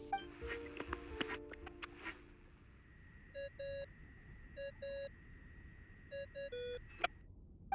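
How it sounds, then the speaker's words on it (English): Repeated electronic phone ringing tones in a video game, short paired beeps recurring in a steady pattern over quiet background, with a sustained tone and some clicks early on. "I really hate that ringing tone."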